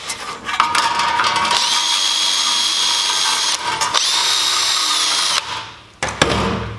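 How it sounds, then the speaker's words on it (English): A power drill whines at high speed against the chiselled joints of a race car body, running in two long sustained bursts with a short break between, loud and close, then winding down. "then you'll be able to get your drill right in behind."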